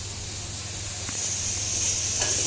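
Potato pieces frying in oil in a pan, a short, even hiss of sizzling that grows slightly louder, close by and without talk.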